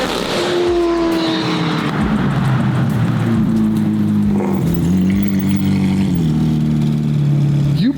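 A 1300 whp McLaren 720 GTR race car engine revs loudly and close by, its pitch rising and falling through several throttle blips over a sustained growl.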